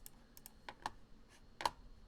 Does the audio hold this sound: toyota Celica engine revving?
no